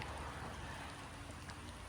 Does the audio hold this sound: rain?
yes